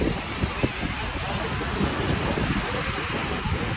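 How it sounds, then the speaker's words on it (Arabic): High waves crash and roll continuously onto Alexandria beach, a loud, steady surf wash with wind buffeting the microphone throughout. "الموج عالي قوي"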